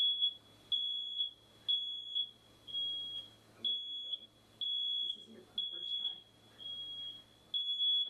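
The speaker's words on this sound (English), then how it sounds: "we set off the smoke detector" A home smoke detector outside a bedroom door shrieks in repeated shrill beeps, a steady rhythm of short bursts separated by brief gaps, with faint low voices underneath.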